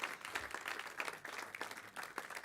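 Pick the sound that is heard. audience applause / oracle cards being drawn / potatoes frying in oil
audience applause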